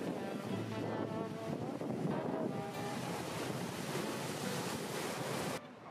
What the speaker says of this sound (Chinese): 今天这么大的风，你在海边站一会儿